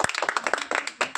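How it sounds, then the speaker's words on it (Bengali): Children clapping together in a quick, close burst of rapid hand claps lasting about a second. "হাততালি"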